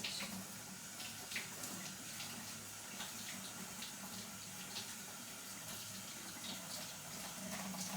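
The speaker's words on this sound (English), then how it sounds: "So I'm going to wash all those because I'm going to use the skin of the kaki" Tap water runs in a kitchen sink while Sharon fruit are washed, a steady moderate hiss and splash with faint bumps of the fruit being handled, with no talking.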